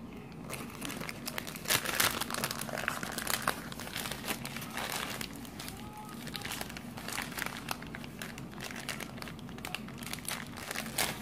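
Crinkly plastic and paper packaging from a craft-swap parcel being pulled and worked open by hand, a continuous close rustling and crackling with brief tearing sounds and a faint voice now and then.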